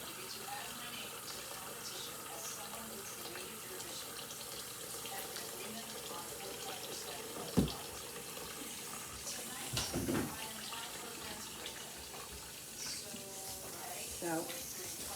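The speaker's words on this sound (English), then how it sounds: "I'm gonna put some hot water in them now because I noticed that the cold water." Hot tap water runs steadily over frozen chicken wings in a kitchen sink, a continuous splashing hiss with a few louder spatters, and voices murmur faintly underneath.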